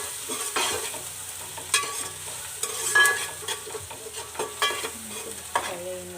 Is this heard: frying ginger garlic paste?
yes